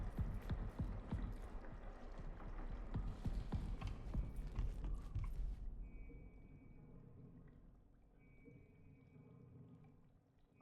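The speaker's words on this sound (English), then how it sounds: "I heard an additional footstep." Footsteps in a video game clop along in a quick, uneven run over a busy ambient backdrop, then stop and give way to a quieter hum with faint scattered clicks.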